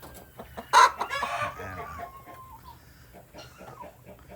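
Male guinea fowl call on a farm, a sharp, loud squawk followed by softer, scratchy clucking chatter at moderate distance.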